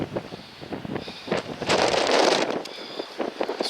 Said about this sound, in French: il y a beaucoup de vent ici